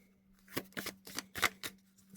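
Playing cards riffled and bridged in a series of quick, crisp bursts, about six distinct shuffles over a steady low hum, close and fairly quiet with no one speaking.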